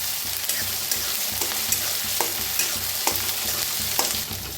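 Chopped onion frying in a pan for a vegetable dish, a steady close sizzle broken by regular scraping strokes of a spoon stirring it about once a second.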